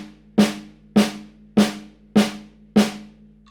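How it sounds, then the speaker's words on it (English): Metronome ticking steadily at 100 beats per minute, five crisp, evenly spaced clicks with a short ringing tail, close and alone. "I'm going to use my metronome to set up a little beat"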